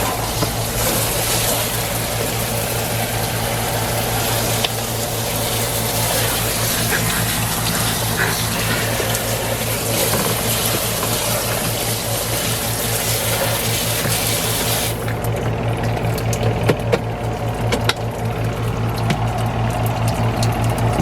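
Water from a pump-fed hose sprays steadily while rinsing out a Costway portable washing machine, a loud continuous gushing hiss that drops away near the end as the spray stops and a low pump hum continues.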